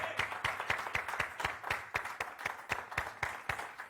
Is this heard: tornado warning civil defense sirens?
no